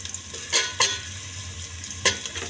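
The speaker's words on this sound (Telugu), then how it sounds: "నేనేమో దాల్చిని, తేజ్పత్తా, మళ్ళీ ఆనియన్ మిక్స్ చేసి ఫ్రై కొంచెం చేస్తున్నాను." Onion frying in a pan with cinnamon and bay leaf, giving a soft steady sizzle with a few short stirring scrapes spaced apart, heard close and alone with no voices.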